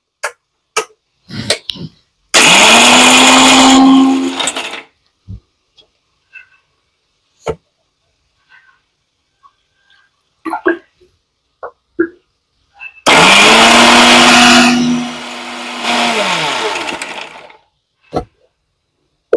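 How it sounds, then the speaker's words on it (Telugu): A mixer grinder grinds masala for a broad bean gravy curry, whirring loudly in two separate bursts of a few seconds each, with scattered clicks and knocks in the quiet gap between them. "ఇప్పుడైతే మసాలా మిక్సీ పడుతున్నా అండి."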